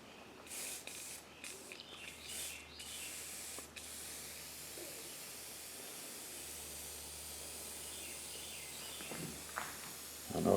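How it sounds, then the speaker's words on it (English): Light spray-can hiss as burnt umber paint is misted onto a carved Native American bust, a steady soft spray running through most of the stretch at close range with a few brief louder bursts. "I'm going to spray on here, and I'm going to spray just down to about here"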